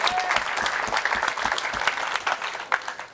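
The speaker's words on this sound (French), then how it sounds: "Et ça s'applaudit." A comedy-club audience breaks into steady applause, dense overlapping claps filling the room for a few seconds with faint crowd noise underneath.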